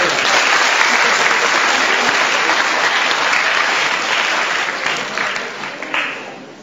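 An audience in a theatre hall at a choral singing competition gives sustained, dense applause that holds steady, then thins and tapers toward the end.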